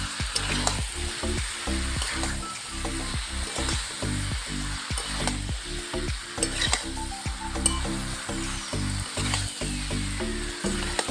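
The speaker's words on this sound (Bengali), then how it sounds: "আলু আর পটলগুলোকে খুব ভালোভাবে মশলার সঙ্গে বেশ কিছুক্ষণ কষিয়ে নেব" Pointed gourd and potatoes, fried beforehand, sauté with spices in a pan, a steady sizzle broken by frequent rhythmic scraping and stirring strokes, close and fairly loud throughout.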